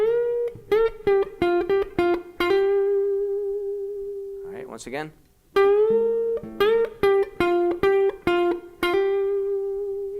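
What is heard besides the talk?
guitar string bends and hammer-ons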